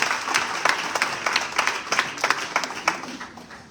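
Enthusiastic crowd applause at a church service, many hands clapping steadily at a loud level, with scattered sharper claps rising above the wash.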